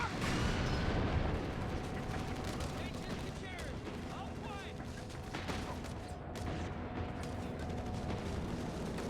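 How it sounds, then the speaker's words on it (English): Artillery barrage in Company of Heroes 3, a 1v1 tournament match between Wehrmacht and US forces, landing on an anti-tank gun: a dense, continuous roar of overlapping shell blasts and gunfire, loud throughout with no quiet gaps. "Barrage coming in onto the AT gun again."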